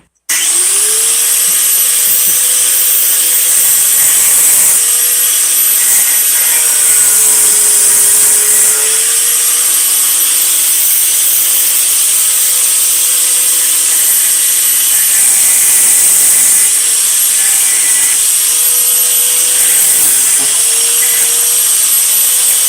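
A grinder running continuously for over twenty seconds during a DIY workshop project, a loud, sustained high-pitched whine whose pitch dips and recovers several times as it bears on the work, with no talk over it.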